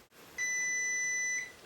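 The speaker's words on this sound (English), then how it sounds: "with that beep, the scanner is done scanning the documents and sending the document wirelessly to my computer" A Brother ADS1500W compact desktop scanner gives a single steady electronic beep of about one second once it finishes scanning, clear and close in a quiet room.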